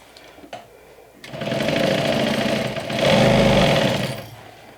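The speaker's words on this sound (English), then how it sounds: "go ahead and sew around your pins with a 1/2 inch seam allowance" A sewing machine stitches fleece fabric around pins with a half-inch seam allowance, its motor whirring in two steady runs, the second louder and fuller, with quiet moments between and no talking.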